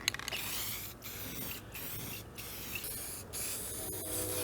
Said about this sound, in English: Do all this work and then spray paint your epoxy.